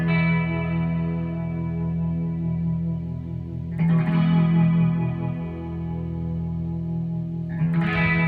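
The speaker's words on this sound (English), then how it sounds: "This is a double chorus." Electric guitar run through a double chorus effect, sustained shimmering chords ringing steadily with a thick, wavering modulated tone, new strums entering about midway and again near the end, no voices.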